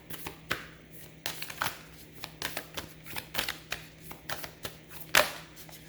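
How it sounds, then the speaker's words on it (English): Cards from a Moonology oracle deck are shuffled and drawn, a series of irregular crisp riffling flicks and slaps over a low steady hum, close and fairly quiet. "Let me get one card from the Moonology deck."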